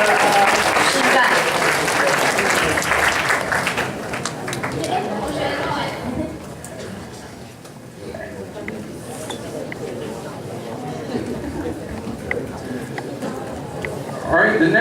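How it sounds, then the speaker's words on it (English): A school audience applauds classmates after a rocket demonstration, loud clapping at first that fades into quieter chatter and scattered claps, with some talking. "round of applause to your classmates"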